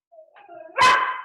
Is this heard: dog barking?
yes